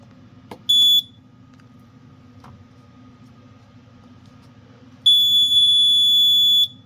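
Fire alarm control panel, an FX-10 or FX-5, being programmed: one short high electronic beep, then a longer steady beep a few seconds later, close and clear over a low hum, with faint clicks between.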